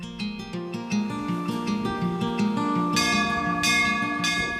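Contactless sensor bell at a Hindu temple ringing continuously, a dense layered metallic clangor with repeated strikes, loud and close, with no voices.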